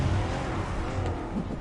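Car engine roaring with tire skidding during a Spider-Man PS4 video game car chase, a loud continuous rumble and screech without a break, close up and heard alone.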